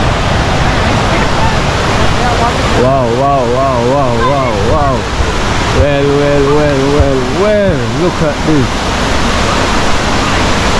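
The rain-swollen YS Falls in Jamaica gives off a loud, constant roar of rushing water that fills the whole scene. Excited voices talk close by over the steady, unbroken noise.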